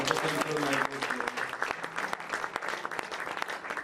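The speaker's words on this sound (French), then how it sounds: "Acclamons le Seigneur" A church congregation claps and cheers in praise, a dense burst of applause that is loud at first and then continues, with voices mixed into the crowd.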